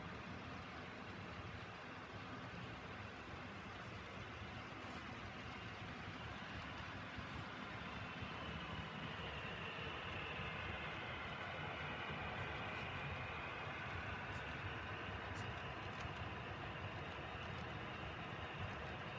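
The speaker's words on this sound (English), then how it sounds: "You do hear sound-powered engines in the background." Steady, low rumble of sound-equipped model GP38 diesel locomotives running continuously at moderate distance on a layout, with a faint hiss on top and no voices.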